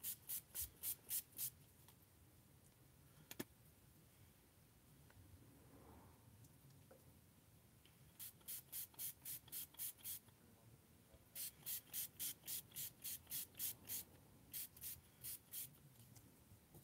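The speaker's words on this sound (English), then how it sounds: "First, spritz it with water." Spritzes from a spray bottle of water wetting a craft surface before color is added, several bursts of quick rhythmic hissing pumps in clusters, close and crisp, with quiet gaps between them.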